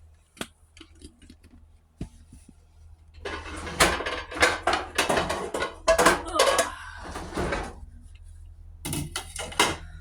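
A metal cooking pan clanks and scrapes as it is picked up and set down in a home kitchen, with sharp clattering knocks in a busy cluster and a low steady hum underneath.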